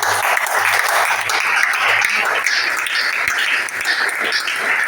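A church congregation applauds and cheers for Jesus in steady, loud, sustained clapping with raised voices mixed in, continuing for several seconds without pause.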